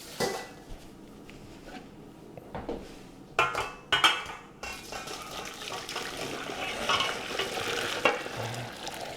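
Partially cooked green beans being lifted from a pot and strained in a home kitchen, with clattering utensils, metal pan knocks and splashing water in irregular bursts, fairly close and without talk.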